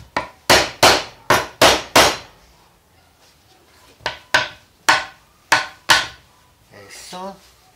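Hammer blows knock together the joints of a wooden drawer, two quick bursts of sharp, loud strikes separated by a short pause, with a brief scraping rattle at the end.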